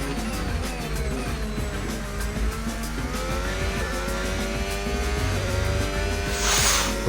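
Racing car engine from a lap in a Brazil Grand Prix video game, a loud, steady high-revving drone with rising and falling gear pitches and a burst of tire or surface hiss near the end.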